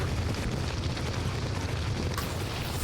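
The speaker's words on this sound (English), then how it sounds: "Wilhelm just did magma breath on the power core." A magma breath attack striking a power core in a video game gives a continuous heavy rumbling roar, loud and dense for the whole stretch, with a soft burst near the end.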